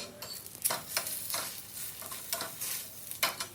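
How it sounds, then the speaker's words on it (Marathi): Flatbread roasting on a hot griddle with a little ghee, turned to crisp both sides, giving a soft continuous sizzle with a few sharper scraping strokes and no talk. "तव्यावरती परत थोडंसं तूप लावून हे भाजून घ्यायचं दोन्ही साईडनं"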